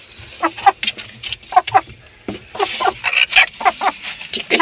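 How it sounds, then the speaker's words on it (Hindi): A broody hen clucks in a village coop, giving repeated short, close clucks in uneven bursts, with a faint background hum. "ये देखें माशाल्लाह हमारी मुर्गी है, अब ये कूड़क हो चुकी है"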